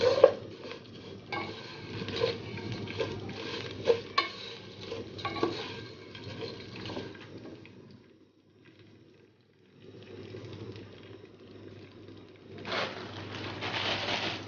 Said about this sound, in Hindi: अब मैं इसको रोस्ट कर लूँ ऑयल में।